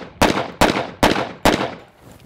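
Four sharp, loud shots from an AF2011-A1 double-barrel 1911 pistol, evenly spaced about half a second apart, each with a short decaying tail, fired close by with no talk.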